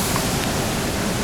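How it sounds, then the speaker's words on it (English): The Ouzoud waterfall in Morocco roars close by as a loud, continuous rush of falling water, with no voices. "Real close to the waterfall."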